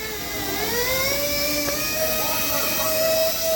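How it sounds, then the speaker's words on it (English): A pulling tractor engine, recently repaired after a blown head gasket, runs steadily up close with a rising, whining tone and a constant loud drone, no voices over it. "Tractor sounds a little different from the head gasket."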